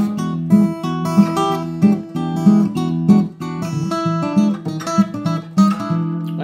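Acoustic fingerstyle blues guitar in E with Travis picking, an alternating thumb bass pulsing steadily under plucked treble notes, close and clear with no voice.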